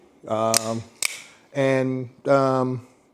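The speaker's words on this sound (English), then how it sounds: "And again, the deployment is snappy." A CobraTec knife blade snaps open with two crisp, sharp clicks, close to the listener, among sustained voiced sounds.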